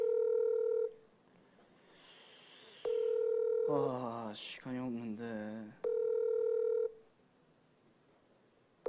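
Unanswered phone call ringback tone: a steady tone repeating in long bursts with pauses between them, with a voice speaking briefly over the gaps.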